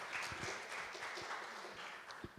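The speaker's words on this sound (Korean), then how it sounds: "다시 한번 큰 박수로 맞아주세요" Faint, distant audience applause in a hall at a Cheonan carbon-neutrality declaration ceremony, welcoming a keynote speaker; a steady wash of clapping with a few sharper claps standing out, with no talking.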